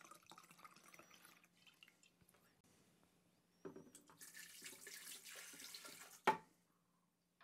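Brandy, a full cup of it, poured for homemade chocolate liqueur, runs in a steady splashing stream for a few seconds after some quieter kitchen handling, ending with a sharp clink.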